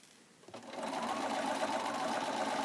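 A sewing machine stitches a quarter-inch seam during free-motion quilting, its motor whirring up from quiet into a steady, close, continuous buzzing run.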